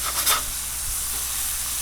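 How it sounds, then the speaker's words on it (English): Soft, steady sizzling hiss of smash burger patties cooking on a Blackstone griddle, fairly quiet and continuous with no talking. "So they're sizzling nice."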